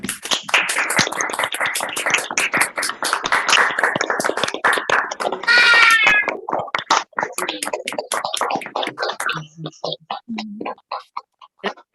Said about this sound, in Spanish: y este aplauso es para vos.